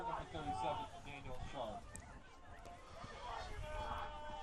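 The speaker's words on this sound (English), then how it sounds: "The crowd has come alive." Excited crowd at a men's college soccer semifinal at Trinity Health System Field, a noisy rolling roar of voices and shouts near and far, with a commentator talking over it.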